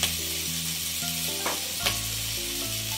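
Fried paneer and vegetables sizzle steadily in a pan, a constant hiss of frying with occasional stirring scrapes, close up and with no voices over it.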